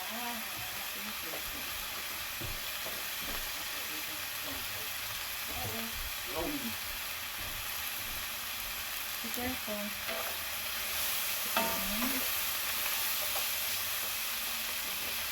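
Ground beef and carrot fry in a pan for meat lumpia, giving off a steady sizzling hiss with occasional stirring scrapes, while a voice talks over it.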